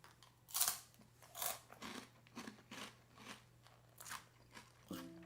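Crunchy Japanese senbei rice cracker from a sakura snack box being bitten and chewed close up, a series of sharp dry crunches in an uneven rhythm, faint and otherwise quiet.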